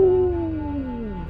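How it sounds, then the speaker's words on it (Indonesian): A howl for a huge black dog, nearly the size of a horse, in a spooky story: one long, falling, mournful tone, loud and close, fading over about a second. "Surokeling melolong panjang sebelum akhirnya menerjang"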